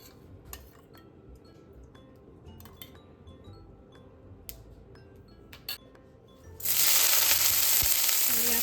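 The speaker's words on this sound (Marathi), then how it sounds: "तर आता देते मी तडका तर हे असं छान ग्राइंड करून घेतलं होतं आणि मी तडक्यासाठी वापरते तूप" Ground spice paste tempered in hot ghee for a Kolhapuri chicken curry: quiet kitchen clinks give way to a sudden loud, steady sizzle in the last two seconds, close by.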